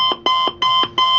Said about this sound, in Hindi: तो ये आप देख सकते हैं ये हमारा अलार्म बजने लगा।